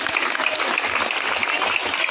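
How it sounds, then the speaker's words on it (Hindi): Crowd clapping at an outdoor election rally in a residential colony in Ballabhgarh, a dense, continuous burst of applause from many hands with no talking over it. "एक बार जोरदार ताली बजा लो अपने लिए।"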